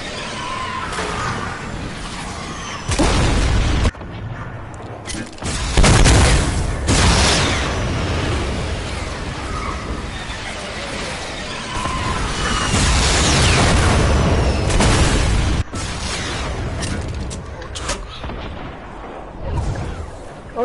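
Rapid gunfire and heavy explosive booms from a Fortnite battle royale match, loud and continuous for about twenty seconds, with dense bursts and repeated blasts and no voices.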